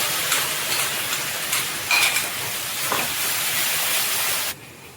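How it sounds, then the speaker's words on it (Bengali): Masala with whisked yogurt and cashew paste sautés in oil for a katla fish dish, giving a steady bright sizzle and hiss with occasional stirring scrapes before it drops abruptly quieter near the end. "আর এদিকে আমার মশলাটাও কষানো হচ্ছে।"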